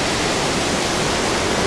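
A waterfall at Dwali roars loud and close as a constant, dense broadband rush of falling water, with no voices.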